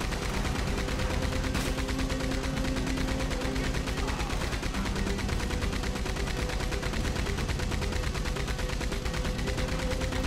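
Sustained rapid gunfire from a weapon in Red Dead Redemption 2, loud and continuous with dense repeated shots filling the whole stretch and no pause.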